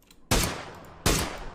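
Gunfire in the game PUBG: three loud, close single shots, each one sharp with a short decaying tail, spaced at irregular intervals.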